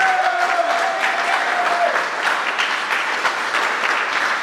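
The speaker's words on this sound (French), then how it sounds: "On a des applaudissements pour lui." An indoor evening political meeting audience applauds the host, giving a dense, steady clapping that fills the room with a faint whistle early on.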